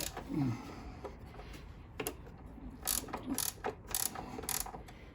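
A nut is tightened on a bolt to draw wooden pieces together, giving quiet clicking and ratcheting with a few sharper metallic ticks in an irregular rhythm, heard close up.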